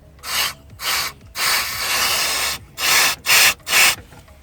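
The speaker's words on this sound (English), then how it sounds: "Now I'm just going to blow it out with a bit of carb cleaner," Carb cleaner sprayed in loud repeated bursts, about seven hisses with one long blast in the middle, blowing metal shavings out of a freshly drilled exhaust manifold stud hole on an MR2 Roadster.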